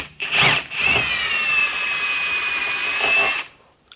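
A power tool with a 19mm socket spins off a strut top mount nut, starting with a couple of short bursts and then a steady, loud whining run of about three seconds before stopping.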